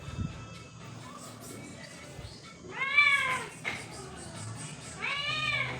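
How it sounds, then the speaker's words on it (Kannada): Indoor house cat meowing while children play with it: two drawn-out, fairly loud meows a couple of seconds apart, with faint household noise and soft voices in the background. "ಮಕ್ಕಳು ಬೆಕ್ಕಿನ ಜೊತೆ ಆಟ ಆಡ್ತಾಯಿದ್ರು"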